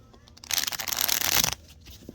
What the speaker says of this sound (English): let me shuffle that just a little bit better.